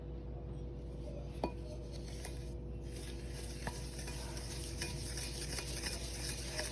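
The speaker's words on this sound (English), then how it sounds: "Keep mixing it until it becomes foamy." Butter and jaggery powder whisked together in a bowl as cookie batter, a steady soft scraping churn with a few light clinks of utensil on the bowl, close and without voices.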